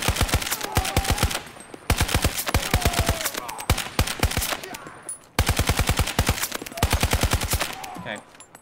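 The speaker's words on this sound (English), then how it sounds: "The SCAR, 4 shots with high power rounds up to 39 meters." Rapid automatic bursts of SCAR rifle fire in a video game, three long strings of closely spaced loud shots separated by short pauses, with faint scattered sounds between bursts.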